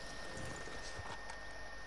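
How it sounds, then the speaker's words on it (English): Horse hooves clop faintly in the distance in Red Dead Redemption 2, soft irregular thuds barely rising above a steady ambient hum, with no talk. "Definitely a horse going crazy somewhere."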